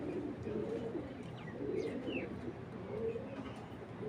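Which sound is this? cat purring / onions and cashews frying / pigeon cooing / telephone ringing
pigeon cooing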